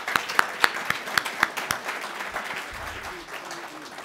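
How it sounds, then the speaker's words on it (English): An audience at a Jewish conference keynote gives a short round of applause, opening with a handful of sharp, distinct claps before settling into soft, thin clapping that fades out. "he does deserve a hefty round of applause."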